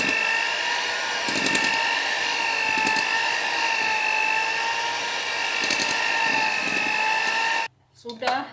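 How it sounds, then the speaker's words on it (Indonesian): An electric mixer beats egg roll batter at its lowest speed, a steady whirring hum that holds constant and close, with faint clatter from the bowl, until it cuts off near the end. "dikocok dengan speed paling rendah, paling kecil, sampai tercampur rata"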